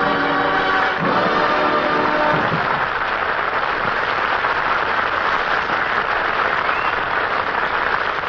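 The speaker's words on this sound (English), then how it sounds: "That was applause. That was applause." Sustained, loud studio audience applause on a 1945 Kraft Music Hall radio broadcast, a dense, steady roar of clapping that fills the whole stretch, with a brief musical chord at the start.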